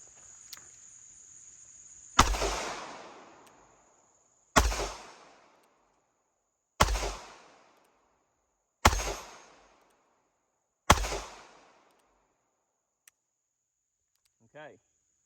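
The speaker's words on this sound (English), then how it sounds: "let's go ahead and take a few shots real quick" Five sharp gunshots from a Standard Manufacturing .22 Magnum switch-gun revolver, evenly spaced about two seconds apart, each loud and close with a short decaying tail, over a faint steady hum.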